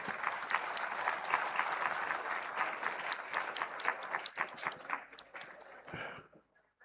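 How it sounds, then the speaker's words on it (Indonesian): A large audience applauds at a formal Indonesian gathering, with people standing. Dense, steady clapping holds for several seconds, then thins and fades out near the end. "Kita tepuk tangan."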